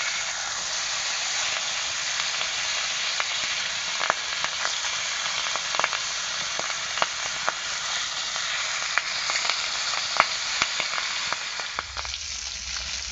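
Fish caught with a rod fries in hot mustard oil after being turned to its second side, giving a steady close sizzle with scattered sharp crackles and pops throughout, no voices.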